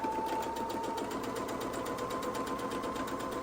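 Sewing machine stitching a small fabric seam with quarter-inch allowance for a Christmas door hanger, steady fast mechanical whirring and rapid needle chatter, close and continuous.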